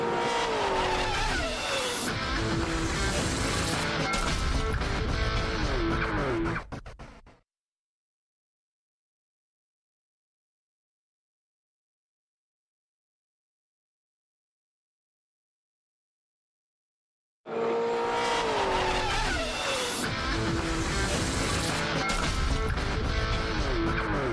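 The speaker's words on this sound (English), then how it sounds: "You hear that misfiring, that pop noise when the car's going on the outside? That's the car hitting the rev limiter." A V8 race car in a 2009 NZV8 touring car race at Pukekohe circuit roars loud and close, popping and misfiring against the rev limiter. The sound comes in two bursts separated by about ten seconds of silence.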